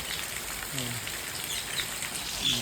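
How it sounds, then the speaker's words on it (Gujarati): Light, steady rain falls in a village, a soft continuous hiss of drops with a few faint chirps and tones over it. "મિત્રો વરસાદ એક ફૂલ આવી ગયો મસ્ત મજાનો ધીમી ચાલુ છે"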